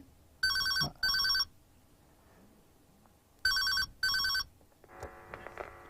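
Landline telephone rings for a listener phone-in call on a Telugu farm advice programme about polyhouse flower cultivation, two pairs of loud electronic double rings, clear and close, followed by a faint beep.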